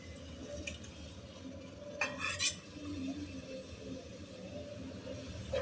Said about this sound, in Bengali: এটা ভালো করে নেড়ে দিতে হবে